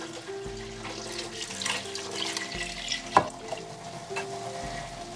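Beef broth poured into a soup pot of cabbage roll soup with tomatoes, a steady liquid splashing and trickling that runs throughout over a low kitchen hum, with a sharp clink partway through.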